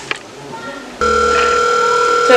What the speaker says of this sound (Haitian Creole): Téléphone a sonné sans réponse.